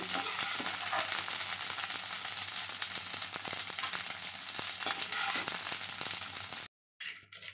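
Dried red chillies fry in a pan for a mint and coconut chutney, making a continuous bright hissing sizzle with small crackles, close up, which cuts off abruptly near the end.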